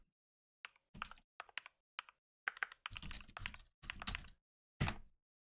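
Bursts of typing on a computer keyboard, quick clicking keystrokes in short irregular clusters with brief pauses between them, close and clear with no talking.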